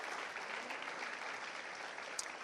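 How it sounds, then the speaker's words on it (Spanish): A church congregation applauds steadily during a sermon, a faint, even wash of clapping heard from a distance with no voices over it. "Denle un aplauso fuerte al Señor"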